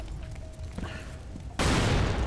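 Bomb explosions in the video game Lara Croft and the Guardian of Light: a low, quiet game backdrop suddenly breaks into a loud, dense blast that roars on without letting up.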